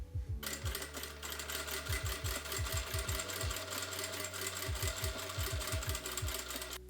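A sewing machine stitches the side seams of a skirt waistband in steady bursts of fast, close mechanical whirring and clatter, with brief pauses between runs.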